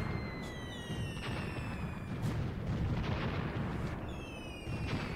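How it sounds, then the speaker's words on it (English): Machine guns in the video game Graviteam Tactics rattle in a dense, continuous roar of battle, with distant rumbling fire and a few sharper pops and whistling streaks overhead. "our machine guns are actually shooting at them"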